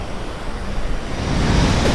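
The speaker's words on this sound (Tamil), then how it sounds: "மொத்த தண்ணியும் எடுத்துட்டு எவ்வளோ பெருசாக வருது" A big in-game tsunami wave in the Roblox Tsunami game surges in as a broad, steady rushing roar of water and wind, swelling louder toward the end with no voices.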